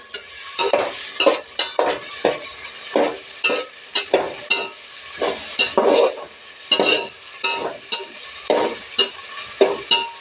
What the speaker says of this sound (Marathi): आपण त्यामध्ये सगळ्या भाज्या टाकून भाजून घ्यायचे पहिल्यांदा वांगी टाकून घ्यायची